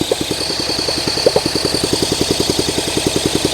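A Honda SL125 motorcycle engine cranking and popping as it tries to start, a fast, steady train of close, loud rhythmic chugs, with no talking.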